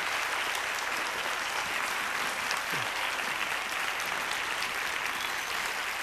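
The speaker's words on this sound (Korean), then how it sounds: "장로님들 인사하시고 들어가실 때 큰 박수로 우리 환영하겠습니다" Church youth service congregation clapping in a dense, steady wash of applause that holds for about six seconds, loud and even throughout with no voices breaking through.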